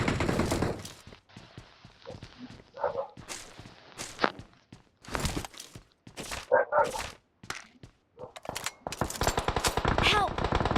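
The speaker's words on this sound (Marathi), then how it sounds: "कुठे कुठे फायरिंग चालू." Gunfire in the mobile shooter BGMI (PUBG Mobile) arrives as scattered bursts of shots and sharp cracks between quieter gaps, with footsteps and players talking over it.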